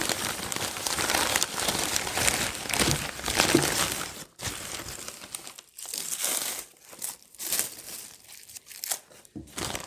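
Paper packing crinkles and crumples in bursts, close and fairly loud, with short pauses, as a Ganesha smoke fountain idol is unboxed.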